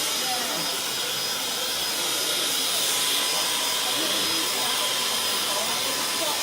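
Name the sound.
warm air blower drying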